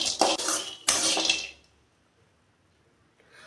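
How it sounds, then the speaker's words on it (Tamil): Cashews and split chickpeas roasting in a pan bring two quick bursts of clattering and scraping from a utensil against the metal, then near silence with a faint rustle at the end. "முந்திரி வறுத்து எடுத்துக்கலாங்க"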